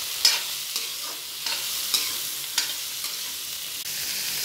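Chopped capsicum and carrot stirred in a hot pan for veg fried rice, a steady sizzle broken by soft, irregular scrapes of the spoon, close and continuous.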